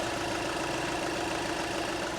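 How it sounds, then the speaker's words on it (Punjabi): A Volkswagen Polo car engine idles with a steady, even hum and a faint low rumble, close and constant throughout with no other sounds. "ਲੋ ਬਈ ਚੈੱਕ ਕਰੋ ਇੰਜਨ ਹੈਗਾ ਬਿਲਕੁਲ ਸਾਇਲੈਂਟ ਇੰਜਨ ਹੈ"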